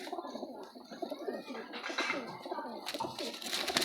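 Several pigeons coo close by in a steady, overlapping burble of throaty calls, with a few other sounds mixed in.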